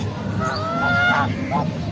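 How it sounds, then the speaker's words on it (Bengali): A white swan at a park gives a series of nasal, goose-like honks over about two seconds, fairly close and moderately loud against steady outdoor background noise. "কত বড় সুয়ান বাবু দেখছো হোয়াইট সুয়ান"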